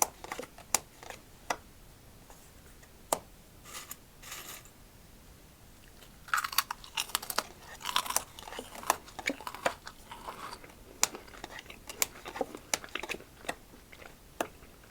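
Crunchy freeze-dried apple pieces are chewed up close, giving sharp, irregular crisp crunches and snaps that come in scattered bursts against a quiet background, growing busier partway through.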